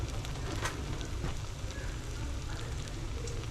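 Muskrat meat browning in a pot for stew over raised heat, a steady crackling sizzle with faint popping, low and continuous throughout.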